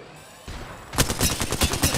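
Rapid bursts of video game gunfire from the player's weapon, a quiet lead-in followed by a loud stuttering run of close shots.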